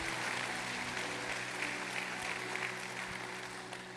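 A church congregation applauding at a Wednesday service, a dense continuous wash of clapping from a large crowd filling the room with a low hum underneath, steady for several seconds.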